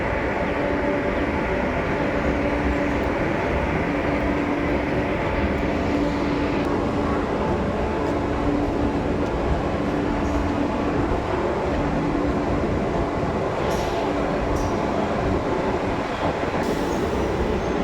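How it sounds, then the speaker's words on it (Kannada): A crowded MEMU local train runs slowly between Bangalore and Yediyur, a loud, continuous rumble and roar heard from inside with steady rattling and no break. "ಲೋಕಲ್ ಟ್ರೈನ್ ಅಲ್ವಾ, ಮೆಮು ಟ್ರೈನು, ಸಿಕ್ಕಾಪಟ್ಟೆ ಸ್ಲೋ ಹೋಗೋದು."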